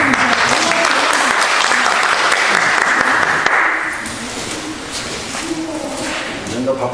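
People at a labor activists' gathering clap loudly for a few seconds, then the applause drops off abruptly and leaves quieter room noise with scattered sounds and murmuring voices.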